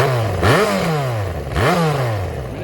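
A 2009 Yamaha FZ6R four-cylinder motorcycle with drilled holes behind a silver part to make it louder, its engine revving up and settling twice, close and loud with no speech.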